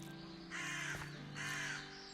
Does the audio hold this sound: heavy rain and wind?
no